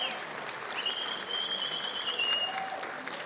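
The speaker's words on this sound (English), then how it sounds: "We're all about a round of applause for this guy." An arena audience at an East vs West arm wrestling match applauds with sustained, dense clapping for over three seconds. A faint whistle or cheer rises briefly above the clapping midway through.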